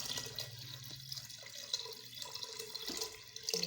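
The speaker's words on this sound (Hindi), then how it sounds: "और 1 किलो पानी इसमें ऐड करना है।" About one kilo of water pours into a pot of plums being made into chutney, a continuous splashing, trickling flow with faint dripping, moderately quiet and close.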